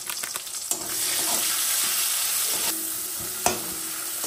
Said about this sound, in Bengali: মশলাটা একদম কষানো হয়ে গেছে, একদম তেল ছেড়ে দিয়েছে।